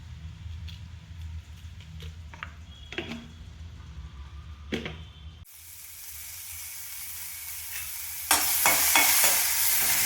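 Mustard seeds, urad dal and green chillies fry in hot oil for beetroot rasam. Quiet clinks and stirring come first, then a steady loud sizzle with sharp crackles takes over partway through.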